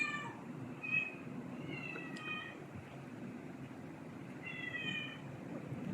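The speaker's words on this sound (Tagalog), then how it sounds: "maingay yung alaga natin dito ng pusa, nangihingi ng pagkain." A hungry cat meows for food several times, insistent and fairly close, with pauses between calls over a low steady background rumble.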